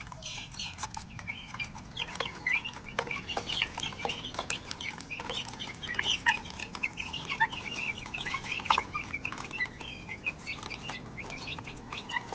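Four-week-old backyard chicks and grown chickens at feeding time, a busy stream of close chirps, peeps and clucks with occasional wing flaps over faint background noise.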